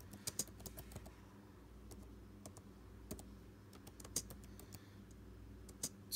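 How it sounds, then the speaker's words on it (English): Soft, irregular keyboard typing with scattered key clicks over a quiet room hum, no voices. "I'm typing with one hand"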